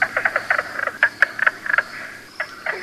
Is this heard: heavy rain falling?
no